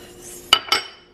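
Spoon and ladle holder dragged across a counter, its metal cutlery clinking: two quick, bright rattling clanks close by, the second slightly softer, in a quiet kitchen.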